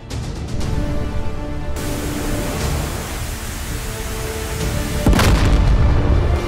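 A destroyed naval target blows up in a modern war video game, a sustained roaring noise wash followed by a heavier, louder boom near the end.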